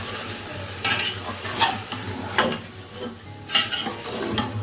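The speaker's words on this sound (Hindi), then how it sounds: "इसको हम भून लेंगे" Yogurt, tomatoes and green chillies sizzle in a pan while a spoon stirs and scrapes at a steady pace, the sizzling soft and continuous with sharper scrapes every second or so; no talking.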